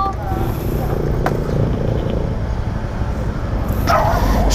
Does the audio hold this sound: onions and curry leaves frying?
no